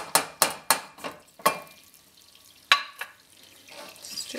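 Brown sugar stirred into melted butter in a pan makes a quick run of sharp spoon taps and scrapes, then a quieter soft stirring with one more clank midway.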